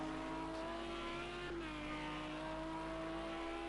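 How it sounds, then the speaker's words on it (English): A big V12 GT3 race car at Silverstone in a racing video game revs high and steady, its engine note droning continuously with a brief dip and recovery midway, loud and alone. "I think that is just the extended rev range of that big V12."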